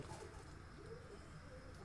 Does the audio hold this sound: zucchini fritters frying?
no